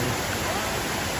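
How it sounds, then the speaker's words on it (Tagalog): Shifen waterfall in Taiwan pours with a continuous broad roar of falling water, steady and close, with no voices. "Yan ang waterfalls. Yung waterfalls nila rito."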